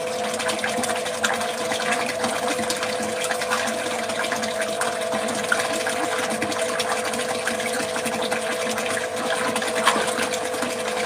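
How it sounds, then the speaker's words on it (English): A pump continuously aerating the water of a koi fish pond, giving a steady, even bubbling and humming drone that runs unbroken throughout. "I have a pump also continuously aerating the water for them"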